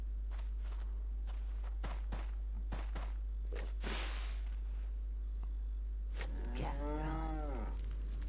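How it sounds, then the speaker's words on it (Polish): In the video game Resident Evil 4, a cow gives one long, clear moo near the end, after scattered footsteps and sharp ambient clicks in an otherwise quiet village scene. "Krowę słyszę."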